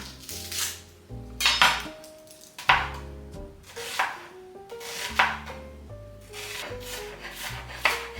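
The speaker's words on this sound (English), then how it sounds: "Next, I'm gonna chop up the red onion." A knife chops a juicy red onion on a board in quick bursts of crisp, close cuts, with short pauses between runs and soft music underneath.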